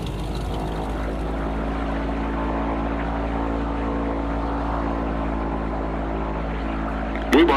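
A Merlin 3C turboprop plane drones steadily and loudly from start to finish in a constant engine hum, with a short louder burst at the very end.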